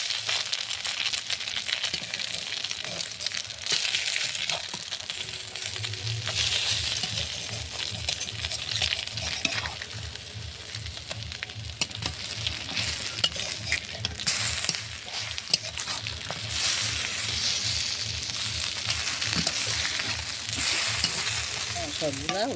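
Lentil paste fritters (bora) fry in a pan of oil with a steady, close sizzle, with occasional clinks and stirring scrapes over the hiss.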